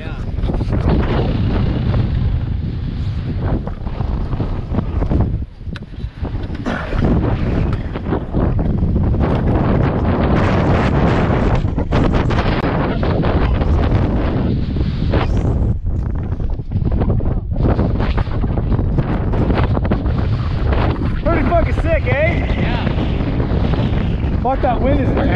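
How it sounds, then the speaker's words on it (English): Strong wind buffets the microphone almost nonstop, a loud rumbling roar with a few short dips. "that wind is intense. It's not stopping."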